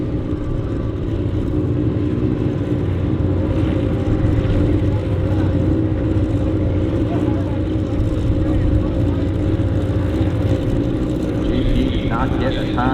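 Turbo DSXR 1000 drag racing motorcycle on a run at Toronto Motorsports Park, a loud, sustained engine roar under steady commentary.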